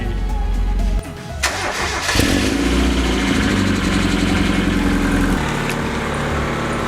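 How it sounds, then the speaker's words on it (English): An NA Mazda Miata engine cranks for about a second, then fires and settles into a loud, close, steady idle. "now that we got the car running"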